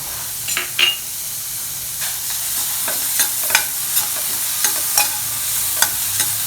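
Chopped onion sautéing in ghee, a steady sizzling hiss broken by repeated scraping strokes of a spoon at a loose, even rhythm.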